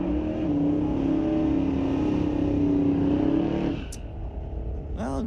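A drag race at Mission Raceway Park between a 2018 VW and an old Plymouth, engines roaring loud and steady at full throttle for several seconds before dropping off abruptly, followed by a short high chirp.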